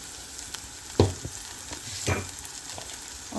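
Beans palya with double beans frying in a pan, a steady sizzle broken by a few clattering stirs of the spoon, close and fairly loud, with no speech.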